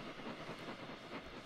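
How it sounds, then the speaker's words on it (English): A small train rolls by over a bridge in rainy weather in The Sims 3, making a soft, steady rumbling wash with a faint hiss throughout this brief moment. "there's the little train going by."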